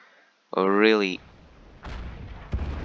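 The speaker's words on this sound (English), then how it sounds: "get annoyed with this artillery" Artillery pounds a World War II battlefield at the Seelow Heights in a video game: a rising whistle of an incoming shell, then two heavy, deep booms a moment apart, one fairly close.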